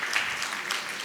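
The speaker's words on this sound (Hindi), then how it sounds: "तालियां तालियां तालियां" A crowd at a Jain religious gathering applauds, a short burst of soft, even clapping heard from a distance.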